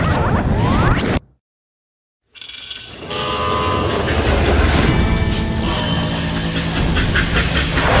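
A freight train in the video game Call of Juarez: Gunslinger rumbles and clanks loudly, with a dense mechanical rattle and whoosh that cuts out briefly, then returns as a steady rolling roar.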